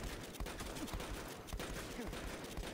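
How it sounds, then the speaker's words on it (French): Short bursts of automatic gunfire in the Battlefield 1 shooter game on the Fort de Vaux map, quiet and dense, with rapid repeated cracks in a busy battle mix. "on est obligé de faire des petites rafales courtes"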